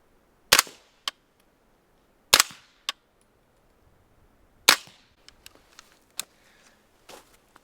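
Several sharp, muffled shots from a suppressed CAR-15 rifle firing subsonic rounds, spaced a second or two apart, the first few louder, followed by softer clicks and clatter between them.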